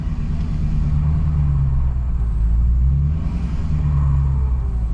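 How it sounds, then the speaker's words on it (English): A diesel truck's engine rumbles loud and close with a turbo whistle rising and falling twice over a steady low drone, as if spooling up under throttle. "you can definitely hear the turbo better. It seems like it's spooling up a little faster too."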